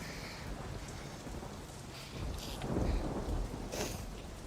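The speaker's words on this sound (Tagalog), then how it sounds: "Malakas ho ang bagyo sa labas." Typhoon outside with heavy rain and thunder: a continuous rush of rain with low rumbling swells of thunder building midway, heard from indoors without voices.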